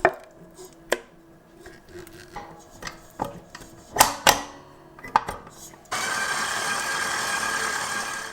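Cream churns into butter in a food processor for homemade ghee; scattered thuds and clatters open the clip, then the machine starts with a loud, steady, close whirring drone that continues to the end.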